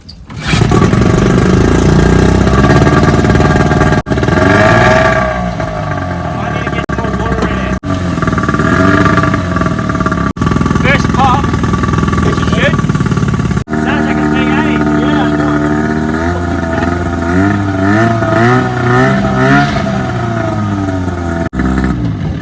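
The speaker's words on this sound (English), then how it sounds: "the motor surprisingly started first pop" A boat's outboard motor runs steadily and loud after starting on the first pull, its droning hum shifting in pitch, with a voice talking over it at times.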